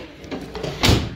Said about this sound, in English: Good strong doors, they are big doors, but they are heavy.